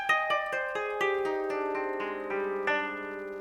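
Koto strings tuned to hon kumoi joshi are plucked one at a time in a descending run, each note ringing clearly and sustaining under the next, close and fairly soft.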